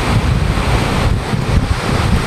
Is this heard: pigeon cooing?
no